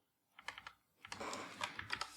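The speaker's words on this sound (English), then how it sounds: "Sorry about the mechanical keyboard. I know it's a little noisy." Keys clack on a mechanical keyboard in quick irregular bursts, a short flurry followed by a denser run of close, crisp strokes, heard alone in a quiet room.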